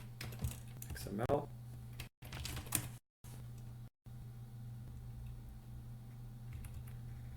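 Keys clatter in a quick burst of typing on a computer keyboard, close and fairly quiet, with someone briefly speaking over it and gaps of silence.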